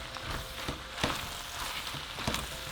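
Discada norteña with serranos, onion and tomato is stirred in a hot pan on a stovetop. A continuous sizzle is broken by a few louder scraping stir strokes.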